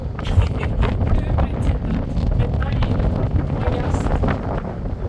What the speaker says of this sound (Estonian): Aga tuul tuli praegu täitsa kohta.